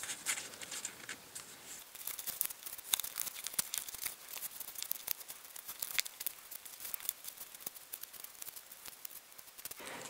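Printable paper doll clothes for Ever After and Monster High dolls are folded and creased, with continuous close paper crinkling and rustling made of many small crackles and occasional sharper rips, heard alone.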